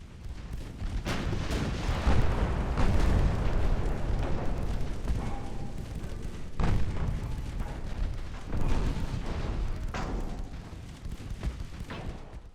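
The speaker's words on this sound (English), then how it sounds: "I presume his torpedoes blew up instead of him having shot it at me" Torpedoes explode in the naval warfare game Ultimate Admiral Dreadnoughts, a string of deep booms and blasts rolling through a continuous battle rumble, with sharper hits landing every few seconds.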